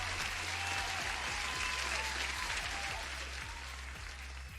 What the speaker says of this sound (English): Let me get an applause for you guys